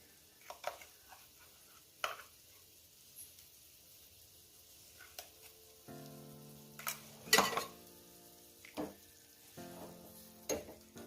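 Gravy for a traditional Marathi lekurwali bhaji simmers and sizzles softly in a pan over medium gas. A spoon occasionally stirs it and clinks against the pan in scattered, fairly close bursts.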